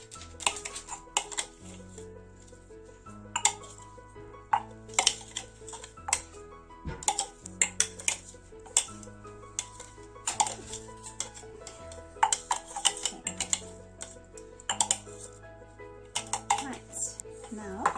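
Food being spooned into a dish for a Mexican chicken recipe, heard as repeated near clinks and scrapes of a spoon against the dish in an irregular rhythm, with background music underneath.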